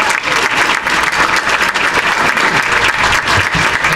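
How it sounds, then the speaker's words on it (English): An audience at a remembrance event claps loudly and steadily to welcome a guest, with a dense, continuous sound of clapping and light crowd noise throughout. "Let's hear it for Steve Jeppy"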